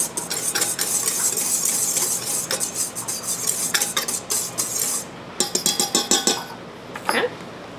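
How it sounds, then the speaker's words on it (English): Rice flours, salt and sugar whisked in a mixing bowl for gluten-free tortillas, the whisk giving rapid, close, rhythmic metallic scraping strokes that come in bursts with short pauses between. "Give it a quick whisk."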